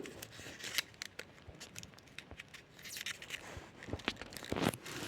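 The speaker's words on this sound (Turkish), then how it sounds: "Şunu şurada bantlayalım." Paper being taped by hand while building a paper prototype animatronic: close crinkling and rustling of paper with short crisp tearing and sticking sounds, a sharp burst near the end, no talking.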